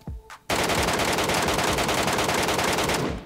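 Gunfire in PUBG Mobile Metro Royale: after a brief quiet moment, a loud, close, continuous automatic burst rattles for nearly three seconds without pause.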